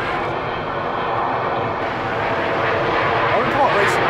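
Airliners taking off and landing at the Atlanta airport give a loud, steady broadband engine roar that swells slightly toward the end, with indistinct voices mixed beneath it.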